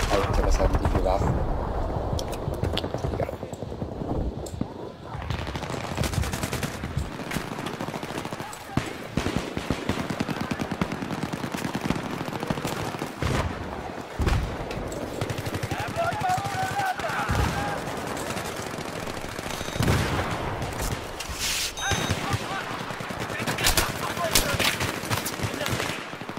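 Dense, continuous enemy gunfire in the Battlefield 3 video game, loud bursts of automatic and single shots with explosions filling the whole stretch, with a voice talking over parts of it.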